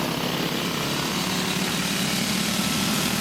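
Go-kart engines racing in a backyard 30-lap feature race, a steady loud buzzing drone that never lets up, with no voices over it.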